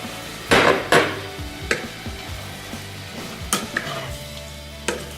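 A spoon stirring spices into a hot pan on a switched-off stove, with a soft lingering sizzle, scattered scrapes and a few sharp clinks of utensil against the pan, close and moderately loud, no talking.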